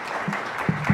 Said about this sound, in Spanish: Por favor, denles un aplauso a este panel disruptivo.